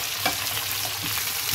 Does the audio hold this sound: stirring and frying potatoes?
yes